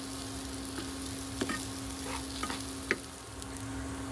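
Rice frying in butter in a pan, a steady soft sizzle with a few brief scrapes and taps of stirring, with no voices.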